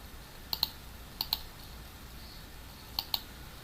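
A computer mouse clicks in three quick double-click pairs, crisp and close against a quiet room hiss, while someone fills out an online visa form.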